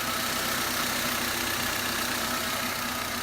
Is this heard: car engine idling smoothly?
yes